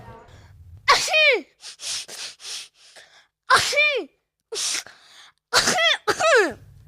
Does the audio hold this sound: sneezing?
yes